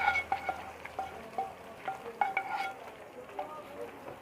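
Quiet scraping and clinking of a spoon stirring leftover rice halwa as it fries in a pan, soft irregular strokes close by.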